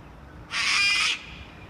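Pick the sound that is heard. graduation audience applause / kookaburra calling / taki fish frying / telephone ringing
kookaburra calling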